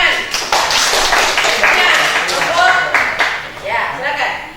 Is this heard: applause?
yes